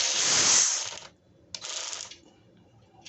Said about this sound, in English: What you heard was the release of that air.